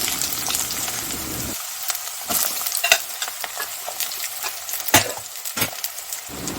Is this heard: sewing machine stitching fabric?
no